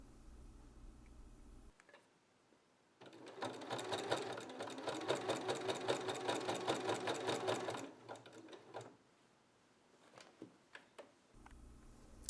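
A sewing machine stitches down the butted corner binding on a dog-themed landscape quilt. It runs in one fast, steady burst of close, even needle clatter for about five seconds, with quieter handling noises before and after.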